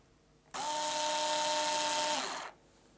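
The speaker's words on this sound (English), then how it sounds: "if you're using a power drill, make sure not to over tighten screws" A power drill spins up abruptly, whirs steadily for about two seconds with a high buzzing whine, then stops.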